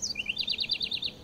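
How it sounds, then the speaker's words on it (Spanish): A small bird singing at dawn in Lima's Plaza de Armas, a rapid run of repeated high chirping notes, clear but fairly faint against a quiet city background. "Está tan silencioso que hasta escucho los pajaritos cantar."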